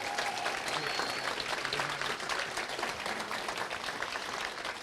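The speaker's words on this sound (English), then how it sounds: "So can we give them a round of applause" An awards-ceremony audience claps for a room of finalists, a steady, fairly soft wash of many hands heard at a distance, with no voices over it.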